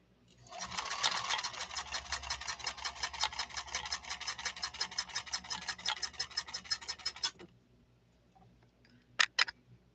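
A 1970s Japanese Kenmore 1231 sewing machine works a zigzag stitch on cork with a rapid rasping, rhythmic clatter for about seven seconds, then stops, followed by a couple of sharp clicks.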